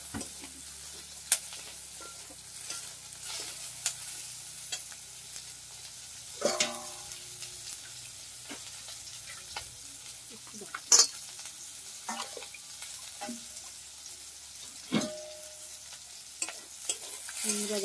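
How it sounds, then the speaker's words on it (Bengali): Onions and prawns fry in a wok under a low sizzle, broken by repeated scraping stirs of a utensil against the metal at uneven intervals. "বন্ধুরা দেখো, পেঁয়াজ আর মাছটা পুরো ভাজা ভাজা হয়ে এসছে।"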